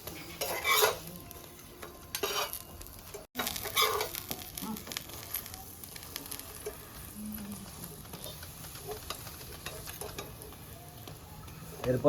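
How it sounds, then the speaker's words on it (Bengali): A chicken keema paratha fries in white oil on a tawa, giving a continuous close sizzle with occasional metal clinks and scraping from a spatula, plus a brief pause midway. "এরপরে আমি সাদা তেল দিয়ে এপিট ওপিট সেকে নামিয়ে নেব।"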